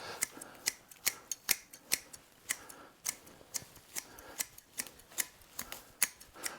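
Hand shears snip rapidly at a bonsai during hedge-style pruning, producing a quick irregular series of sharp, close metallic clicks against a quiet background.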